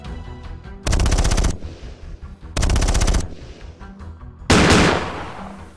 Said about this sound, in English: crew answers back on their own by firing into the mercs